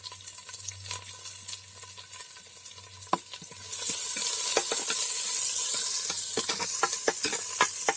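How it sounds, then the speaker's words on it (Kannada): Onion sizzling as it fries in a pan for a Tulu-style fish curry, with stirring scrapes and a hiss that swells louder partway through, no voices. "ಈರುಳ್ಳಿ ಹಾಕ್ತಿದ್ದೀನಿ."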